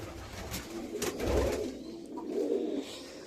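Pigeons coo softly in a loft, with two low, rolling coos rising and falling over faint background rustle.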